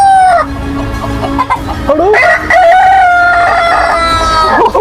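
Chicken clucks give way to a long rooster crow, loud and slightly tinny as if from a speaker, with a few short clucks at the end.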